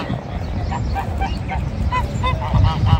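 Geese honk repeatedly near their pen in a park over steady low background noise, a string of nasal calls of moderate loudness, with no talking.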